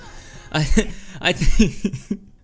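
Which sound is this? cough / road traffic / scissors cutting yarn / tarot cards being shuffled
cough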